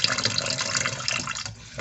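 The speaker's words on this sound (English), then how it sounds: "I'm sitting here doing dishes" Water runs steadily from a faucet into a sink while dishes are being washed, a continuous close splashing hiss with small clinks and drips, no voices.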